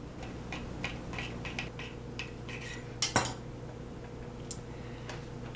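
A knife cuts through rolled Danish cinnamon snail dough, giving soft, irregular taps against the board and one sharper click partway through, all faint and close.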